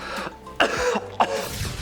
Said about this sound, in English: Just coughing non-stop while shaving your head so you don't get fleas.